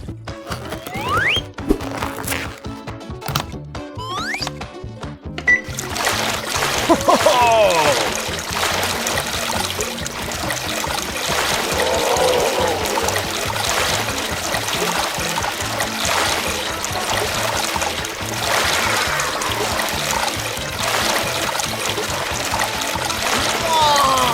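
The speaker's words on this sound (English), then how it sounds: "The pump uses a chain of buckets to scoop up water, pour it into the tray, and let it flow out." A LEGO bucket chain pump clicks and ratchets as its buckets scoop water and pour it into a tray, with the water trickling and splashing under a steady mechanical rattle that runs for the whole stretch.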